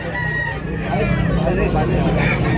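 Roosters crow and cluck at a chicken market in Tabunok, Cebu, steady and close, mixed with crowd babble and voices talking nearby.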